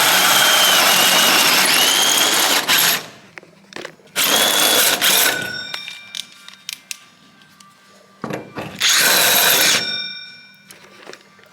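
A power drill, worn and close to failing, drills through metal on a 1957 GMC pony tank fuel system project, running in three loud bursts of about two to three seconds each, separated by quieter pauses with clanks and handling noise.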